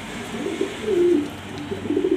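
A pigeon coos close by, a low throaty warble rising and falling over a couple of seconds, with no talk.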